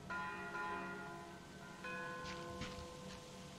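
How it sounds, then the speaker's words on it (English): Metallic wind chimes ring softly in Metro Exodus, a few gentle clusters of sustained tones lingering and overlapping, faint against quiet ambient background. "wind chime?"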